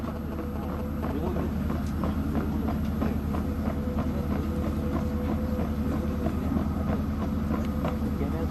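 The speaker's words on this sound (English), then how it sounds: "The gun is now being moved away to its firing platform to demonstrate its firing." An artillery gun moving under its own auxiliary power unit toward its firing platform, a loud steady mechanical drone with rhythmic clanking, and someone talking over it.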